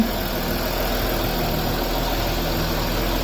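A Land Rover Discovery common-rail diesel engine idles steadily up close, a constant low rumble and hum with no change in pitch and no voices.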